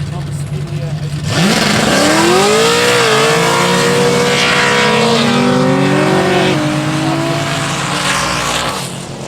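Roll racing cars at a Sydney nationals event, an LS turbo car against another, roaring as they accelerate hard side by side with rising engine pitch, loud and close, with a commentator talking over the noise throughout.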